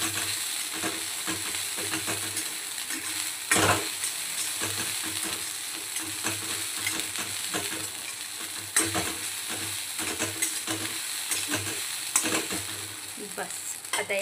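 Sago pearls fry in a pan on a low gas flame, a constant close sizzle with intermittent stirring scrapes and a couple of sharper clacks against the pan, no voices.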